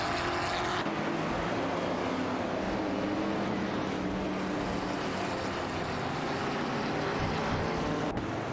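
Racing cars in a video game, including a 1971 Plymouth Roadrunner and a 1977 Aston Martin Vantage, give a steady, loud, unbroken engine roar with no pauses, throughout the clip.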